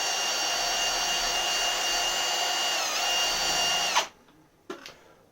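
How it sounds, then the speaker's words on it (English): A power drill spins a wire brush inside the threaded stud holes of a Mini Cooper R50 wheel hub, a steady high whine with a scraping edge that winds down abruptly, followed by a brief faint rattle. "I'm going to just send the wire brush in there dry, try to clean out some bits"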